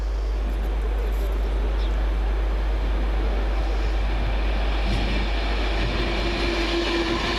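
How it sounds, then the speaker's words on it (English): A Virgin express train running from Manchester Piccadilly to London Euston passes through a station as a loud, steady rumble that holds for the whole stretch, with a low hum underneath and no talking. "Next through should be 1A22 off Manchester Piccadilly coming to London Euston for Virgin."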